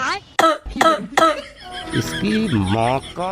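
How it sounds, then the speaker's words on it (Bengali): A man gives three sharp, close coughs in quick succession, followed by voiced vocal sounds and speech-like chatter. "দেখেন ডাক্তার সাহেব কি করে কাশছে"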